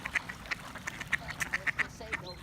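Ducks are fed pieces of bread outdoors. A close flock quacks in quick, repeated bursts over low background noise.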